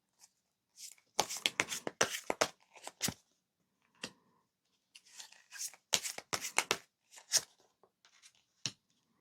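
Tarot cards are shuffled and drawn close up in quick, crisp bursts of riffling and flicking, separated by brief pauses and a few single card snaps, with no talk over them.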